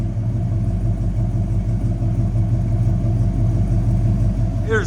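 A 1971 Ford F100 pickup with a 360 V8, headers and Flowmaster Flow FX exhaust idles steadily, a loud, close, even low rumble with a lopey pulse throughout and no talking.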